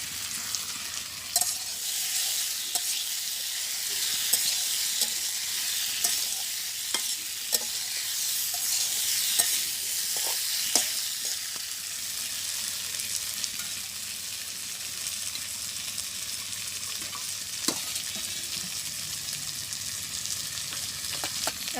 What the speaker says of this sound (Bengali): এখন মাছ আর মরিচটা দিয়ে দেবো।